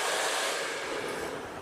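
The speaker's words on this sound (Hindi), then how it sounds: "रूट पे सबसे पहले हम यहाँ पे ड्रायर करेंगे" A blow dryer runs steadily at the roots of curly hair in a salon-style setting, a close, continuous broadband whoosh of airflow that stays loud without a break and carries no talk.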